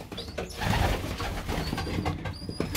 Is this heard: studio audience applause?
no